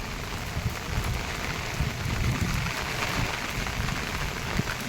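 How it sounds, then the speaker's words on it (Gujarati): Steady rain falls during a monsoon day beside farm fields, a dense continuous patter on surfaces with occasional louder drops, close and even throughout, with no talking. "આજે વરસાદ એવો ને એવો ચાલુ છે।"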